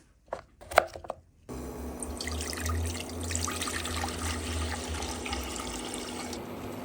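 After a few brief clatters, a steady stream of water pours into a cooking pot for boiling mung beans and potatoes, running continuously with a hollow rushing sound.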